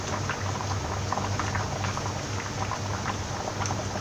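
Dried tapioca (kappa) bubbling at a steady rolling boil in a pot of water, a dense continuous burble of popping bubbles heard up close, with no talk.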